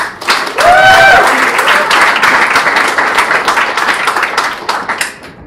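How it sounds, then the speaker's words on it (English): An audience at a startup event claps in a sustained round of applause welcoming a speaker, dense and steady throughout, with a brief whistle-like tone near the start. "So please join me, everyone, in giving a round of applause."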